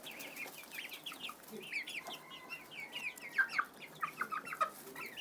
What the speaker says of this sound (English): Also got these grey chickens